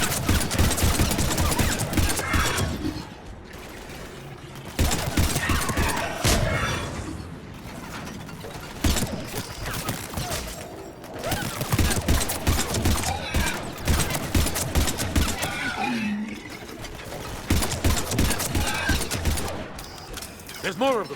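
Gunfire in Mass Effect 3 combat, dense bursts of rapid shots and clattering mechanical clicks in loud clusters separated by brief lulls, near and continuous across the stretch.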